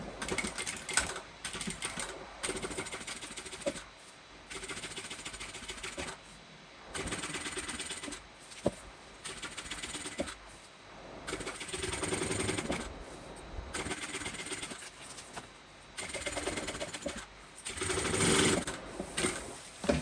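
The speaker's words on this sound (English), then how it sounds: "I'm just going to do one stitch up and then come down this side." A sewing machine top stitches a Bella Bucket Bag in repeated loud, rapid bursts of rattling stitching with short pauses between runs, close up and with no speech.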